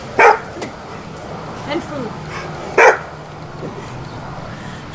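A dog at a Detroit property barks twice in sharp, loud bursts with a softer yelp between, while people talk nearby.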